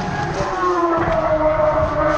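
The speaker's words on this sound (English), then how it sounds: "This is how a racing car should sound at the moment." Racing car engine at the Goodwood Festival of Speed hill climb, loud and close, with a continuous rough roar, crackle and popping that runs throughout.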